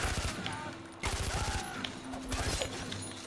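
Skorpion submachine gun fire in the video game Far Cry 4, short rapid bursts of shots separated by brief gaps, loud and close, with a few faint game sounds between bursts.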